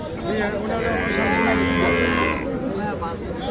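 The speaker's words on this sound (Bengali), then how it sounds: "আরো কিছু ছোট ছোট বাছুরের দাম জানার চেষ্টা করি" At a village cattle market near Dhaka, young bull and heifer calves moo in one long, loud, close call over a busy background hum of the market.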